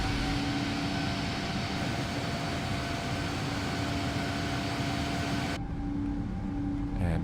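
Boeing airliner engines in a flight simulator game climb after takeoff, a steady, loud mechanical drone with a constant hum that thins abruptly near the end while the rumble carries on.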